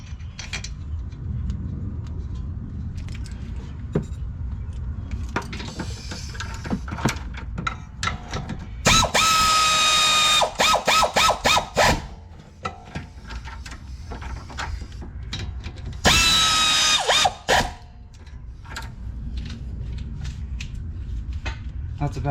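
A power tool tightening the brake caliper bolts on a 2009 Ford Flex, two loud buzzing bursts of several seconds each among quieter clicks and clatter of the work.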